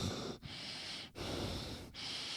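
A voice imitates loud breathing heard with earplugs in, with three long, heavy breaths separated by brief pauses, close and fairly steady, with no other sounds.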